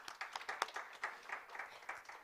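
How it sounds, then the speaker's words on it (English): Scattered clapping from a small audience at a college press conference, faint and uneven, with individual claps standing out in loose bursts rather than a dense roar. "So let's give Susan a round of applause."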